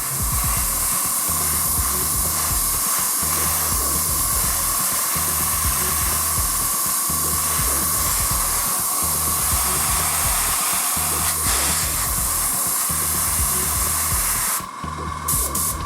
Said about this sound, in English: you can always try to dry it off with an air from an airbrush.